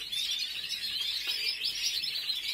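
A pet bird, a yellow-footed male or a new female kept for breeding, chirps in a steady run of quick, high tweets and trills, close and continuous with no talk over it.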